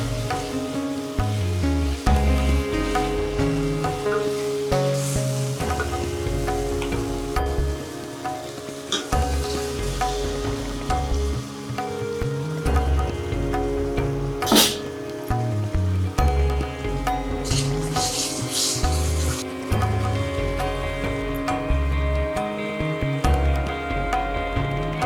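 Water poured into a pan of frying spice paste for egg curry, with steady loud sizzling and bubbling as the liquid hits the hot oil and masala, close up and continuous throughout.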